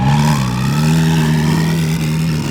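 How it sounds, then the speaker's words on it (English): A twin-turbo Ferrari 458 revs hard, its engine note loud and close as a steady throaty roar that dips briefly and then climbs again in pitch, with no voices over it. "It's the twin turbo 458."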